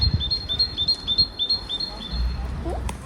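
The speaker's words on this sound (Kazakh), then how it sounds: "Еще құстардың әндері" Small birds sing in a countryside recreation area: a rapid series of bright, high chirps repeats evenly for about two seconds, close and clear over low rumbling background noise.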